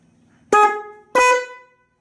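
Two loud, bright scooter horn honks from a Maestro Edge, each about half a second long with a short gap between them, sounding close by with nothing else around them.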